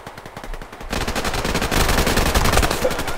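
Rapid automatic AK rifle fire from the video game Survarium rattles loudly and continuously, a dense burst of closely spaced shots with no talking over it.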